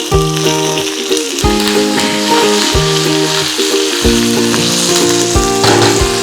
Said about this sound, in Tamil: இந்த தாளிப்பு வடகம் சேர்த்துறோம் இது கூட ரெண்டு வரமிளகாய் சேர்த்துருக்கோம்